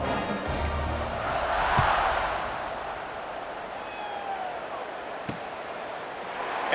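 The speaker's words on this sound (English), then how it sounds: "this crowd now ready to get behind them" A video-game stadium crowd in College Football 26 roars steadily at kickoff, a broad, distant wash of cheering with a couple of faint thuds.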